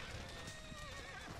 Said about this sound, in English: Horses are really spooked.